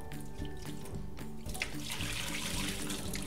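Cooked sago pearls rinsed under running cold tap water, a steady close splashing and gushing from a faucet for a few seconds with no talking.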